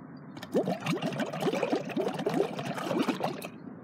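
Breath blown out through a straw into a glass of water makes a continuous bubbling gurgle of rapid, uneven bursts for about three seconds, close up and fairly loud, with no talking.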